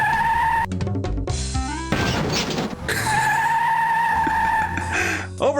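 Cartoon car from the Sam & Max: Hit the Road adventure game revving and skidding off, loud tire squeal and engine roar over game music, with a short crash-like burst midway.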